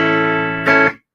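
Guitar played through a VOX AC30 amplifier with its tremolo on: one sustained chord, then a brighter restrike that fades out quickly.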